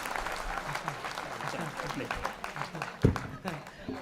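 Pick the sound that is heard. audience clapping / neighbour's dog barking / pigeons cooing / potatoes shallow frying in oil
audience clapping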